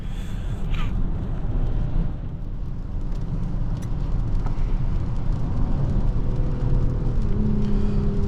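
A 2024 VW Atlas Cross Sport SUV engine hums steadily from inside the cabin with road rumble, building slightly as it accelerates; no one speaks.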